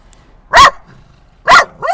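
Dog barking at another dog in the distance, two sharp loud close barks about a second apart, followed by a shorter yip or whine, with no talking.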